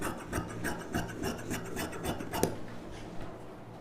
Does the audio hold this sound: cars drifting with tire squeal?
no